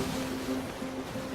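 Ocean waves wash steadily around a sailing ship in the pirate video game Sea of Thieves, a soft continuous rush with a low tonal hum underneath, brief and even.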